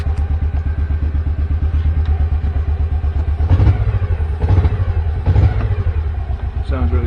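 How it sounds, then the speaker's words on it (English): The engine of a John Deere Gator 590i utility vehicle, foot brake on, idles with a steady throbbing pulse, then rises three times in short, limited revs before settling, recorded close; a voice speaks over it. "It will only rev a little bit because the foot brake's on, so that inhibits the engine."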